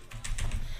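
Quick keys clatter on a new computer keyboard, a few close taps in rapid succession over a low hum.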